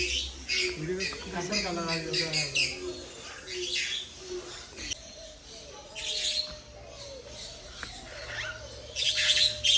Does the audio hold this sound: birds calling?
yes